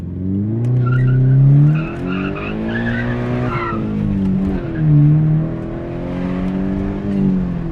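A Subaru BRZ sports car engine revs and pulls up through its gears, with rising and falling tones and rough, gravelly passages, loud and close, with no talking.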